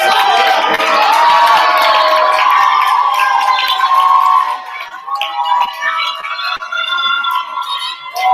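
A student election forum audience cheering and whooping loudly, a dense sustained crowd roar that eases partway through while cheering and shouts continue.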